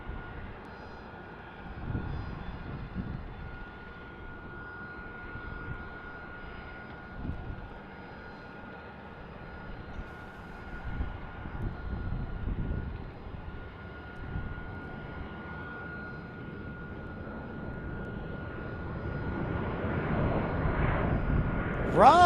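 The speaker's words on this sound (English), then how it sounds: "Delta Airlines E-175 from Los Angeles here." A Delta Air Lines Embraer E-175 jet airliner at Tucson International Airport, a steady distant engine rumble with broadband roar that builds louder toward the end, no talking over it.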